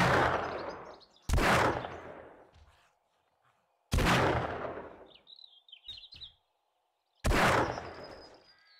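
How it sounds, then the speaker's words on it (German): Magnum sniper rifle in the survival game 7 Days to Die: four loud, sharp shots spaced a few seconds apart, each trailing off in a long echoing decay, with faint bird chirps and small clicks between them. "Okay, nehmen wir mal Magnum Sniper."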